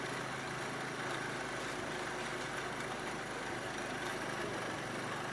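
Motorcycle engine running steadily as its carburetor mixture screw is adjusted, a dense, even hum heard close up with no pauses and no talk.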